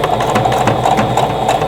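A sewing machine runs steadily, stitching a seam that joins two fabric pieces for a sailboat quilt block, giving a close, continuous whirring hum for under two seconds.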